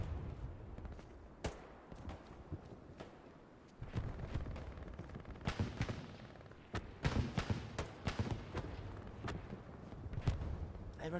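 Gunfire and tank cannon shots in a competitive Hell Let Loose match: repeated sharp bangs and bursts of varying distance, some loud and close, over a continuous rumbling battlefield background with scattered distant shots.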